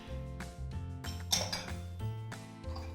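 Microwave-safe bowls, some melamine and some plastic, clink and knock against each other in a kitchen with several sharp ceramic-like chinks in an irregular rhythm, close and fairly quiet.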